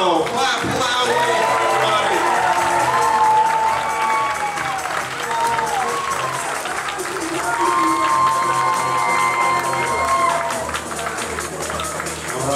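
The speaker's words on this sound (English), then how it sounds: "Take a big bow. Clap loudly." A dance competition audience at a West Coast Swing finals applauds and cheers loudly and continuously, with whoops and shouts rising out of the crowd.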